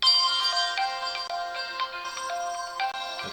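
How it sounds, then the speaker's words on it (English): A smartphone rings through the Myvi OS1 app's find-phone feature, a repeating electronic ringtone pattern playing steadily and clearly for several seconds with no voices. "If we'd like to find the phone, we can select ring."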